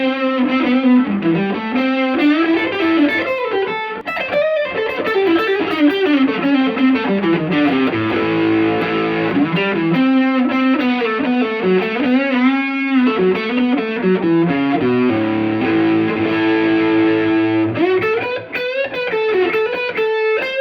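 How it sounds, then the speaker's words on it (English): Electric guitar played through a JOYO pedalboard, Oxford overdrive with atmosphere reverb, into a Tonemaster amp: a loud, sustained distorted melodic line with bending notes and a lush, washy reverb tail, continuous throughout. "We're just listening to the Oxford coming through the JOYO, or the reverb, the atmosphere"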